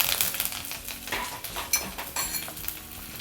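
Curry leaves and sliced green chilies frying in hot oil for chana dal fara, a busy crackling sizzle with a few utensil clinks, close and moderately loud, no voices.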